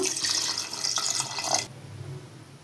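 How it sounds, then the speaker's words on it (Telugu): Tamarind extract is poured into Andhra-style sambar, a splashing liquid trickle that runs for about a second and a half before dropping to a quiet background hum. "ఆ చింతపండు పులుసు అనేది నేను పోస్తున్నాను"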